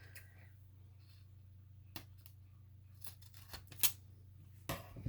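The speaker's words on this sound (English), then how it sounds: "Let me cut a little square of that off." Scissors cutting a small square from a roll of packing tape, a few faint, sharp snips spread across a quiet room with a low hum, with no talking.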